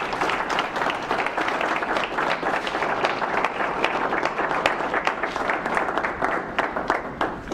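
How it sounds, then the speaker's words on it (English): Audience at an environmental engineering seminar applauds to welcome a visiting lieutenant as guest speaker; steady, dense clapping fills the whole stretch, close and fairly loud, with no talking over it. "maybe a little extra round of applause for his service"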